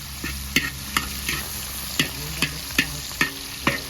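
Tomatoes being stir-fried in a hot pan for a Shan-style rice noodle dish, with a soft steady sizzle and regular scraping strokes of a spatula roughly every half second.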